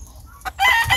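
A rooster at a Dominican-style gamecock farm crows loudly and clucks in a short close burst, with a brief rustle just before the main call.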